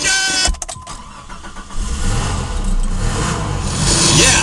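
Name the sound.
car engine starting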